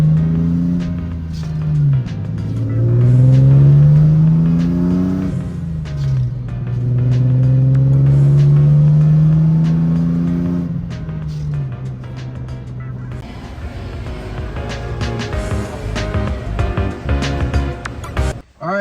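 A BMW E30 with a swapped M50 engine runs nearby in cold weather, its loud engine tone rising and falling through a couple of revs before settling into a steadier idle.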